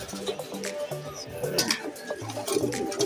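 Racing pigeons coo in low, soft, repeated phrases, with faint chatter and rustling in the background.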